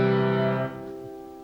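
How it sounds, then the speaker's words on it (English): Low piano notes ring while higher keys are held down silently, leaving a sustained tone with soft sympathetic string overtones that drops in level and fades, quiet and alone. "What you're hearing is the sympathetic vibrations, the harmonics, the overtones."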